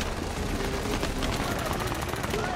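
Rapid bursts of gunfire strike a Panzer 21 Alpha armoured vehicle, a dense, continuous crackle of shots with no pause across the whole stretch.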